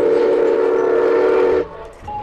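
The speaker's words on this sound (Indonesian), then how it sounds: "Yang ini kereta api Thomas" A Thomas toy train gives a steady, shrill whistle tone for about a second and a half, then cuts off into quieter background noise.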